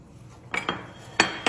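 Yogurt is mixed into chicken in a bowl, heard as a few sharp utensil clinks and scrapes against the dish in a short irregular series, close and alone.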